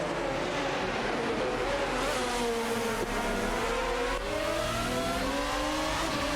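A Lamborghini Murcielago RGT and a Ferrari 550 GTS racing in a video game, their engines revving and climbing through gears in overlapping rising whines over a steady loud roar, with no voices.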